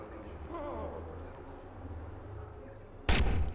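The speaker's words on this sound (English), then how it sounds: "I'm getting no sensory feedback if these bullets are actually hitting or it's just the gun firing." Shots from a gun in Watch Dogs, faint background game noise building to a sudden loud close burst of fire at the end, with talk low in the mix earlier.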